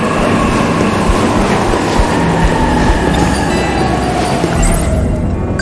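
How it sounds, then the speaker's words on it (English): Train rumbling past in 13 Sentinels: Aegis Rim, a loud, steady roar of wheels and carriages with a faint high squeal drifting across it, fading slightly at the end. "There's the train."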